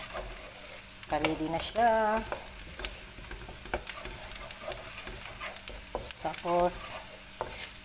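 Fried rice with carrots stir-fries in a pan with a soft, steady sizzle and scraping stirs, while a person speaks briefly over it.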